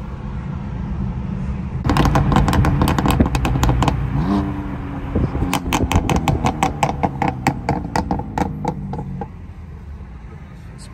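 A Lamborghini or BMW sports car exhaust crackles with rapid bursts of loud pops, mixed with engine revving that rises and falls, close up and continuous for several seconds at a car meet.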